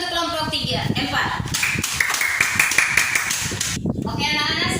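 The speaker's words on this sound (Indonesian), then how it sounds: "tepuk tangan untuk kelompok 4" A classroom of children clapping for a group after their magnet experiment, rapid scattered handclaps with a teacher's and children's voices mixed in, close and lively.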